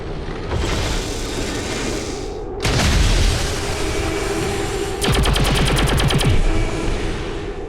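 Loud in-game reaction gunfire from the XCOM 2 War of the Chosen squad, with sustained booming bursts, a heavier blast near the middle and a rapid machine-gun-like rattle of fast repeated shots toward the end.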